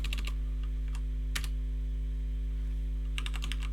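Keys tapped on a Commodore 64 computer keyboard, a few short clustered bursts of clicks separated by pauses over a steady low electrical hum.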